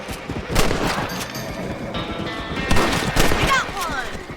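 Rifle shots in Red Dead Redemption 2 as thieves are fired upon, several sharp cracks spaced through the moment amid game ambience and character voices.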